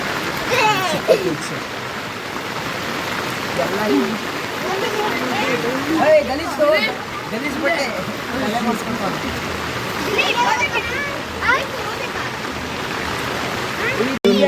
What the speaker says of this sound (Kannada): ಟಾರ್ಪಲ್ ಮೇಲೆಲ್ಲ ಮಳೆ ಮಳೆ ನೀರು ಬಿದ್ದು ಫುಲ್ ವೆಯ್ಟ್ ಆಗ್ತಿದೆ